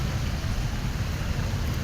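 Heavy rain pours steadily in Lahore, a dense, even hiss of falling water with a low rumble underneath and no voices.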